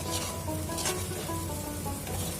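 Okra being fried with egg and a pinch of garam masala in a pan, stirred with a spatula: steady close sizzling with scraping strokes across it, and no voices.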